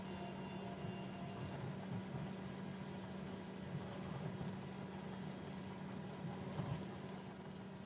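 A steady low rumbling bubble of water boiling in a pot with potatoes, with a constant hum and a few faint high ticks scattered over it.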